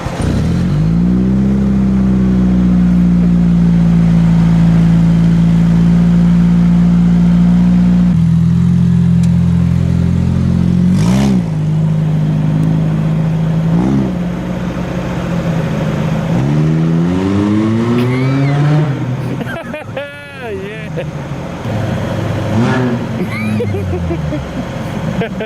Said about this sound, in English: Monster truck. It's loud.